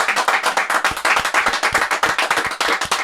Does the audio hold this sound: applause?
yes